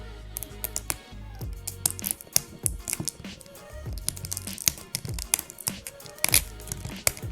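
Sticker being peeled off iPod Touch packaging, a dense run of small crackly tearing and crinkling sounds with sharp clicks, close and fairly loud, no talking.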